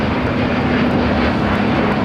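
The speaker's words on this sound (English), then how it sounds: "469 taking off to Atlanta, Georgia on an A350-900" A Delta Airbus A350-900 jet takes off at LAX with a loud, steady broadband roar and a sustained low engine hum, close and continuous, with no voices.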